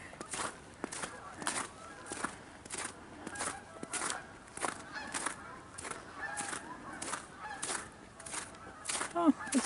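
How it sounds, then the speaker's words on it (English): Geese honk repeatedly by the Black River trail in a steady, fairly close series of calls with footsteps crunching along the path underneath. "Perfect timing on the geese to sound off."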